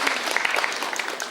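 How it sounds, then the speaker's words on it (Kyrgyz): Audience applause at a Kyrgyz television variety show, a dense steady patter of many hands clapping at moderate loudness throughout, with no voices over it. "Кол чаап коелуңуз анда."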